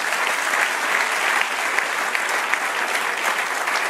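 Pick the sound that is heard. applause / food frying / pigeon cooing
applause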